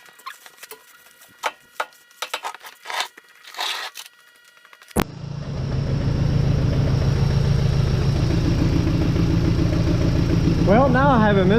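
Ford SVT Focus engine with a misfire starts up after some scattered clattering and handling noises, then runs at a loud, steady idle with a slightly uneven pulse, a voice briefly heard near the end.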